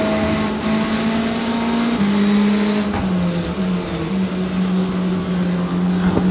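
A Ferrari race car in an IMSA racing game at Road America drones steadily at high revs, holding a sustained engine tone with gear-change steps that stays loud and unbroken.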